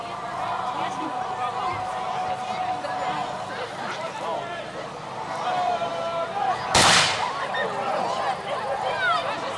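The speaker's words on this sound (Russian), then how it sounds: "Примерная скорострельность из пушки, обратите внимание, сейчас русские пушкари готовятся к отражению атаки" A cannon fires once with a sharp loud crack at a fortress siege reenactment in Izborsk, standing out from an outdoor crowd murmur and someone narrating throughout.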